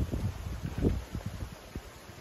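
Wind gusting across a sailboat at sea, running downwind at dawn in a breeze of around 10 to 15 knots: irregular buffeting rumbles and microphone-battering gusts, fairly close and steady, with no voices.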